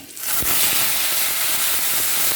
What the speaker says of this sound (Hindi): सबसे पहले हम चिकन की जो मैंने हड्डियाँ ली हैं गर्दन से लेकर निचले हिस्से तक, उसको मैं थोड़ा फ्राई करूँगा